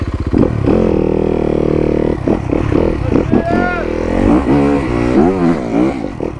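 A dirt bike revs hard while climbing a steep hill, its engine droning loud and close, then dropping and surging in uneven bursts as the throttle is worked, with clattering and short vocal sounds mixed in.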